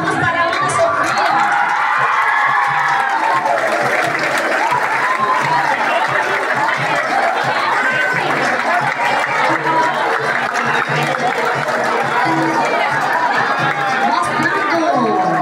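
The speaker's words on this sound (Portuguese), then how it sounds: "palmas para a Ana Sofia." A school audience at a Black Consciousness Day event claps and cheers continuously, a loud mix of applause, shouting children and crowd chatter filling the hall.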